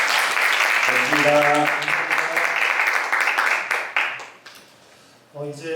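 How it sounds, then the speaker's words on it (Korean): An audience at a university innovation forum applauds a lecture, a dense burst of clapping that slowly thins out while a voice speaks briefly over it, then a smaller round of clapping returns. "이태 팀장님 다시 한번 큰 박수 부탁드립니다"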